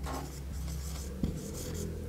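A pen scratching across paper, a continuous soft rubbing stroke with one small tap, close and faint over a steady low hum.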